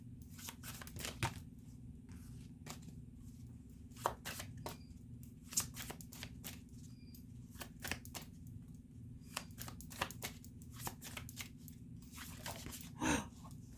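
Tarot cards shuffled and pulled from the deck, a steady run of quiet, crisp flicks and riffles close by, with a few sharper snaps as single cards are drawn; no talking.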